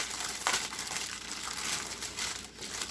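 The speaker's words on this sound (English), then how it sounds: "I'm not even going to apologize for the crinkling." Plastic packaging on a Diamond Art Club diamond painting kit crinkles and crunches steadily at close range during unboxing, a busy rustle with sharper crackles throughout and no voice.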